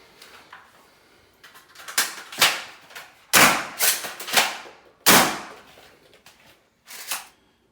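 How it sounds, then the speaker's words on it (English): A foam dart blaster fires Worker and Dart Zone bamboo darts into a small pink children's couch, giving a series of loud, close, punchy shots with soft thuds, irregularly spaced and alone without speech. "So I'm going to fire these 15 times each and see how durable the darts are."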